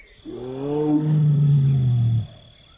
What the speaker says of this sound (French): Ces rugissements indiquent sa présence aux femelles qui se trouvent sur son territoire